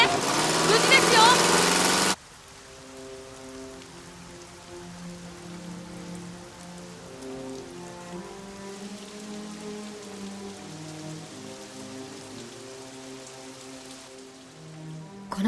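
Rain falling in an anime street scene: a loud, dense hiss for the first two seconds, then softer steady rainfall beneath sustained background music.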